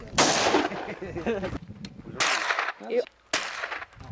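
Sniper rifle fired at an American shooting range: three sharp, loud reports spaced a second or so apart, each with a short ringing tail, and voices murmur between shots.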